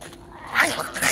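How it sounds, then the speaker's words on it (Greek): A dog gives a short, low growl that swells midway and rises again at the end, close and fairly loud, lasting about a second with no talk. "το σκυλί."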